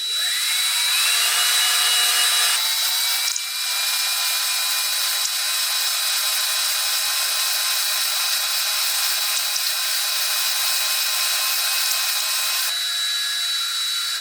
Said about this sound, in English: Drill battery's dying.